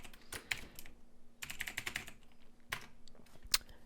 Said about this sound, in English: For now, we'll just type in a bunch of text.